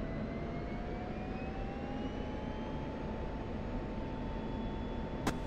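An F-16C jet in the DCS flight simulator roars with a steady broadband engine rush and a rising whine, held at even loudness throughout, with a short click near the end.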